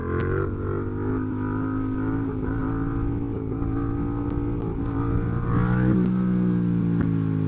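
A restricted A2 Yamaha MT-07 motorcycle accelerates hard in second gear to lift into a wheelie, its engine note droning steadily and rising near the end, loud and close with no talk.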